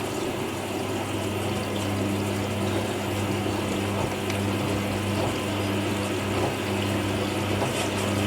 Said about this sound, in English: Going for second rinse.